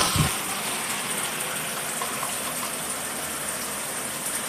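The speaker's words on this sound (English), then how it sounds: "And we about to turn the water on and see how it is." Water gushes steadily from a newly installed shower head, a continuous broadband hiss close by with no talking.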